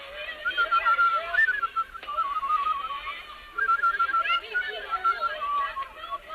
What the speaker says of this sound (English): I hope I can still whistle.